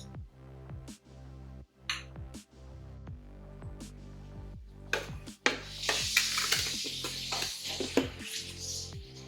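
A spoon stirs peaches with sugar and cinnamon for a peach cobbler, giving repeated close scraping and soft clinks against a pot, growing busier and wetter in the second half, without speech.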